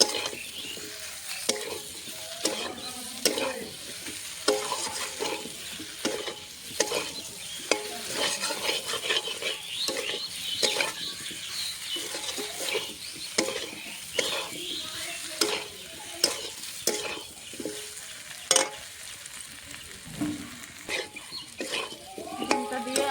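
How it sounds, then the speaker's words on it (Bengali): Fried fish roe stir-fried with boiled, spiced potatoes in a pan: a steady sizzle under repeated scraping and stirring strokes of a spoon, close and continuous throughout. "ভেজে রাখা ডিমটা দিয়ে আর একটু কষিয়ে নেব।"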